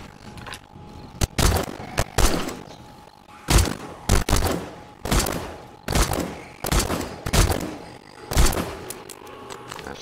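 Gunfire rings out in 7 Days to Die during a horde night, a string of loud, close single shots fired at an irregular pace, about a dozen over ten seconds, with no talking between them.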